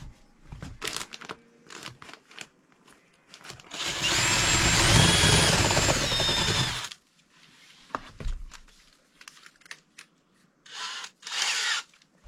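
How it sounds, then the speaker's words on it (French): A power drill with a 20 mm bit bores a hole during kitchen electrical work, one loud continuous whine of about three seconds amid scattered handling knocks and quieter gaps. "je vais percer d'abord avec la mèche de diamètre 20."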